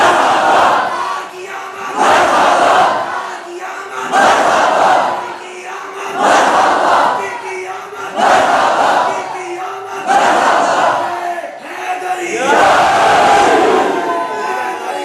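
A large crowd at a Milad gathering chants slogans in loud, rhythmic call-and-response bursts, roughly seven surges about two seconds apart, each swelling and fading in unison.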